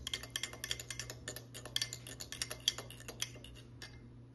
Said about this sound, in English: I'm going to stir it with a spoon to combine it.